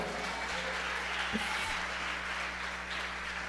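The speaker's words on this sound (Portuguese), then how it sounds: "Quem pode aplaudi-lo?" Sustained applause from a church congregation, a steady wash of many hands clapping at moderate distance, with a low hum running underneath.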